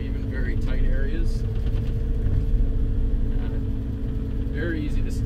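Alltrack AT-20HD tracked machine from 2017, its engine running steadily at about 1600 RPM, a continuous low mechanical rumble throughout with someone talking over it.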